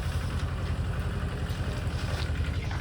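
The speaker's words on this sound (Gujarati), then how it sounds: "ટ્રેક્ટર આવી ગયું છે" A steady, throbbing engine drones close by with a low, regular chugging pulse, loud and continuous over a short stretch.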